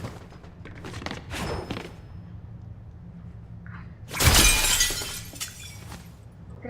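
In Fortnite, a window's glass shatters in one loud burst of crashing fragments after a few softer thuds and scuffs.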